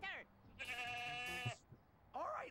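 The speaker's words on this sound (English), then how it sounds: "Smash heads with a goat?" A goat bleats loudly in the Ed, Edd n Eddy video game The Miz-Edventures, one long wavering bleat in the middle with a shorter cry at the end, set against game sounds and brief voice-like calls.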